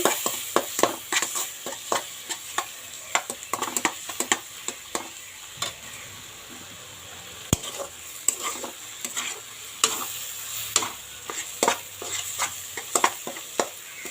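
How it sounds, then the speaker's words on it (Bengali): Spice masala fries in a pan for a sea-fish curry, with a soft continuous sizzle broken by frequent sharp scrapes and clinks of stirring, close and unaccompanied by talk. "তো মশলাটা ভাজা ভাজা হয়ে গেছে"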